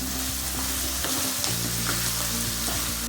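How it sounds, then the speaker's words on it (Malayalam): Ginger and green chillies, with onion and garlic, sauté in hot oil in a pan, a steady close sizzle with stirring scrapes running throughout and no voices. "ഇഞ്ചി, പച്ചമുളക്. ഇത് നമുക്ക് നല്ലപോലെ ഒന്ന് വഴറ്റി കൊടുക്കാം."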